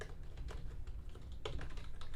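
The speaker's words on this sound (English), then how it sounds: "still getting used to this keyboard, guys" Close, steady typing on an unfamiliar computer keyboard while entering C code, with rapid clicking keystrokes of uneven rhythm heard alone.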